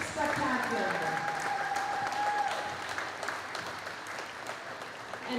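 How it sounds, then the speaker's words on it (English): A crowd at a hockey banner ceremony gives sustained applause to a championship-winning team, with a high whistle or cheer early on and steady clapping that continues at a moderate level throughout. "Give yourself a round of applause."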